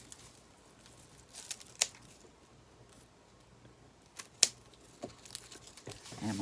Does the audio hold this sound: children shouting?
no